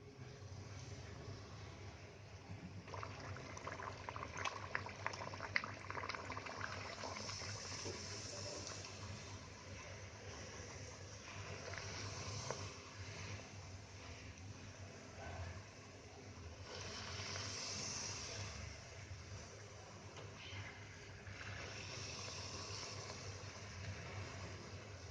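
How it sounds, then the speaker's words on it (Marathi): Spinach puris fry one at a time in hot oil in a kadhai on a gas stove, giving a soft, continuous sizzle and bubbling that swells and eases throughout, faint and with no talking. "आता त्याच्यामधून आहे ना मी एक एक पुरी आहे ना तळून काढते."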